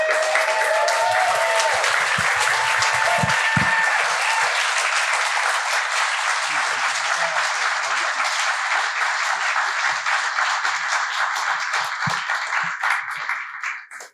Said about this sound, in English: Let's give Darnell a big round of applause.